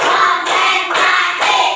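A classroom of pupils claps together in rhythm, four bursts of dense group clapping about half a second apart, close and loud with no talk in between.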